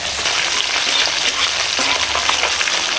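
Dried red chili, bay leaf and panch phoron spices frying in hot oil, a loud, close, steady sizzling hiss with light crackles, heard alone.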